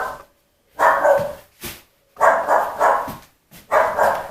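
Indoor dogs barking in a house, several sharp bark bursts in quick groups with short silent gaps, close and loud with no other sound.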